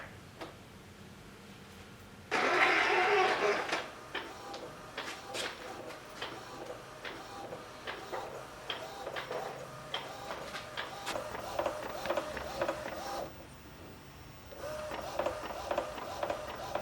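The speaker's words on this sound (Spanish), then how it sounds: "Vamos a colocar el papel para poder hacer la impresión" An A4 printer printing paper bag designs, starting with a burst of feed noise, then a long run of rhythmic mechanical ticking and whirring, pausing briefly before the motor starts again, close and moderately loud.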